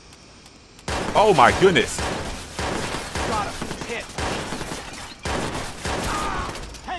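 Gunfire in the Watch Dogs video game crackles in several dense, rapid bursts separated by short pauses, close and loud, while a player speaks over the shots.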